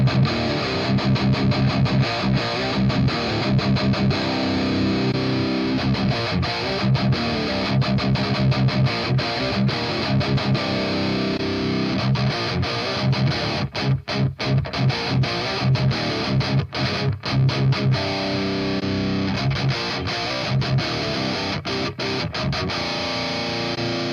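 Electric guitar played through an impulse response of an Orange PPC412 4x12 cabinet captured with a 421 dynamic microphone, giving a continuous, loud, distorted tone with strummed chords and sustained notes, with no voices.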